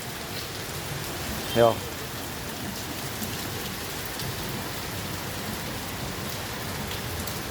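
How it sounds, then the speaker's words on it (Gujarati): Heavy rain pours steadily over Jamnagar city, a dense, even hiss that continues throughout, with a single short word spoken briefly near the start. "જામનગર શહેરમાં વરસાદ ચાલુ થયો"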